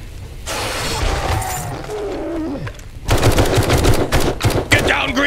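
Rapid automatic gunfire in the survival video game 7 Days To Die, a dense continuous burst that grows louder and harsher midway, loud and close with no talking.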